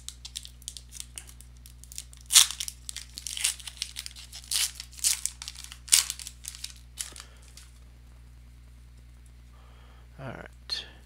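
Upper Deck Series 2 NHL hockey card pack from a 2021 retail box being torn open, a run of close crinkly foil rips and crackles with short pauses and a few sharper tears, fading to a soft rustle near the end.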